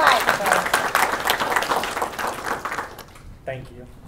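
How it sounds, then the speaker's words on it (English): An audience at a fentanyl awareness forum breaks into a burst of applause that fades out after about three seconds, leaving a brief spoken moment at the end. "let's give him a round of applause"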